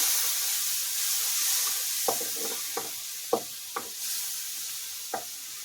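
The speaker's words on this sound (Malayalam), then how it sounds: "കൊഞ്ചിക്ക എണ്ണയിൽ കിടന്ന് നന്നായിട്ടൊന്ന് വശയ്ക്ക് വന്നതിന് ശേഷം" Shrimp fry in hot oil over a wood-fired stove, giving a bright, steady hiss, with a few distinct scraping taps of a utensil spaced irregularly across the sizzle.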